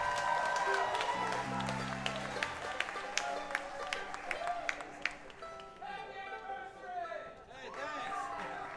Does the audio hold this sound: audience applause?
yes